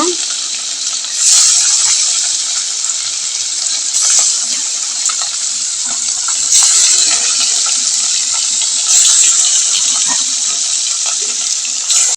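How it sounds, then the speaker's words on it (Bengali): Two kinds of fish coated in turmeric and salt fry in oil in a hot wok, making a loud, continuous hiss that swells and eases in waves across the whole stretch. "কড়াই গরম হয়ে গিয়েছে এখন আমি দিয়ে দিচ্ছি মাছগুলো ভেজে নিব"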